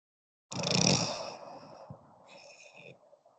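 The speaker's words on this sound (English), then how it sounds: "Someone is sleeping on the call. He's snoring." A single wheezy, rattling snore rises abruptly, then trails off into a softer nasal whistle and quiet breathing, close and alone.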